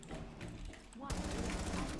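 Rapid automatic gunfire rattles in Rainbow Six Siege during a zombies event, a dense burst that suddenly grows louder midway, with talking mixed in.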